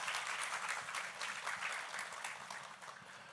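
Audience applause welcoming a vice minister at a parents' talk concert in Chungbuk, a dense steady clapping that starts strong and slowly fades a little over a few seconds, with no voices.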